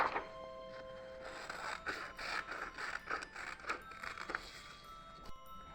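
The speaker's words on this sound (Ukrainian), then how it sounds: "та ножицями виріжемо круг." Scissors cutting a paper circle, a near run of soft crisp snips and scraping paper rustles repeating unevenly over several seconds, alone in a quiet room.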